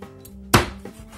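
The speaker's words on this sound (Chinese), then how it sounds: "接着我们把鸡剁成鸡块，" One sharp, heavy thwack of a cleaver cutting through chicken thighs on a chopping board, loud and close, with a short ring-off afterward.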